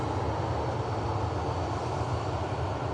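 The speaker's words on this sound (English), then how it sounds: "next aircraft that's going to be visible on the airfield is an absolute beautiful airframe" An airliner's engines roar steadily on the airfield at Manchester Airport, a loud continuous rumble that stays level throughout with no talk.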